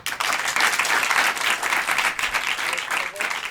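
At an improv show in Paris, a crowd claps in a sustained, even burst of applause to cast its vote, loud and close throughout with no clear pause.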